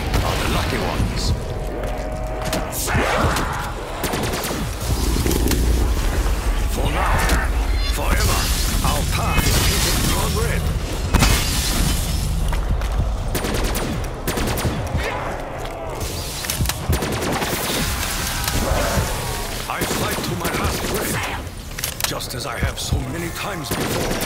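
A volley of gunfire follows a shouted command to fire, with dense, loud crackling shots and mechanical clatter layered over dramatic music and voices for a long sustained stretch.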